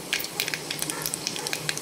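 Mustard seeds sizzle and crackle in a pot of hot oil, a close, continuous frying hiss with dense small pops and spatters and no talking.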